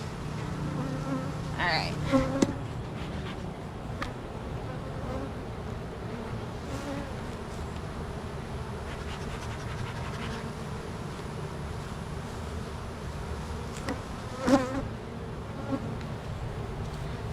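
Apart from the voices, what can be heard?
honey bees buzzing in an open hive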